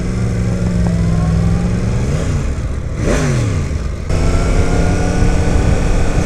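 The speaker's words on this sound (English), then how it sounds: "by the way, this is a stock exhaust." A 2017 Yamaha FZ-10 motorcycle engine on its stock exhaust, loud and close, rising and falling in pitch as it revs and shifts, with steady wind and road noise underneath throughout.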